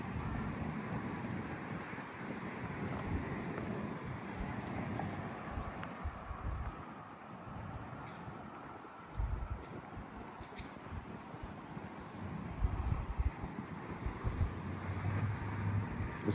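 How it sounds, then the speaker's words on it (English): Outdoor wind buffets the microphone beside a 1988 Oldsmobile Cutlass Supreme Brougham, a low rumbling roar with gusty bursts that swell louder toward the end, no clear talk. "so if you hear a lot of wind, that's why."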